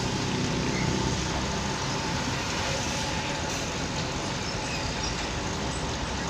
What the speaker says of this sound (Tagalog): Ayan na, traffic na mga buds.